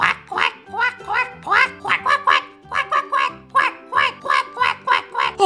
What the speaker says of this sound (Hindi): पहली बतख यहाँ पर आ चुकी है